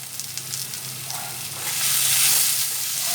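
Spices with turmeric, ginger paste and three green chilies sizzle in a pan while cooking for a Bengali rice and pointed gourd dish, a steady hiss that swells louder partway through, with no talk over it.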